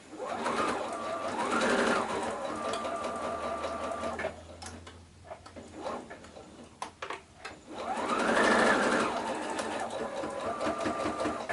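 A sewing machine stitches a tote bag made from shirt scraps in two sustained, loud runs separated by a short pause with scattered clicks and handling sounds.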